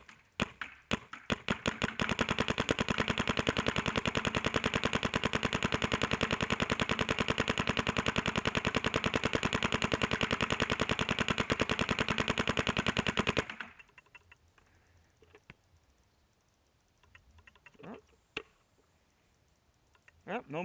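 A Shocker RSX paintball marker fires a full hopper of paintballs in a long, rapid, loud burst of evenly spaced pops, then stops, leaving a few scattered clicks and faint voices.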